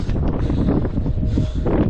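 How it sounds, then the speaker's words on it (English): Wind gusts on an exposed hillside near Horsetail Falls in Tasmania, a loud continuous low buffeting roar against the microphone, steady for two seconds. "When the wind stops, it doesn't feel so bad, but when the gusts come,"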